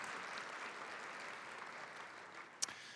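An audience applauds students at a county education event, a faint, distant, steady patter of clapping with one sharp brief knock near the end.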